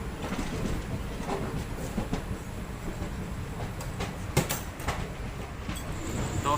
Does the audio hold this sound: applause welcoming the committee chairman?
no